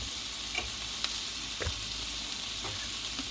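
Tomatoes for salsa fry in a pan with a steady, dense sizzle, broken by a few faint clicks and taps.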